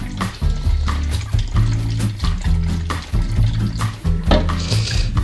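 Liquid sloshes in bursts inside a film developing tank being agitated by hand, with repeated close, rhythmic swishes and knocks.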